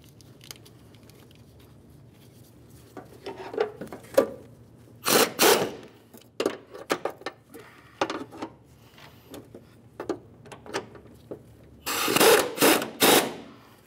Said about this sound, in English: now we can continue on by tightening our 2 bolts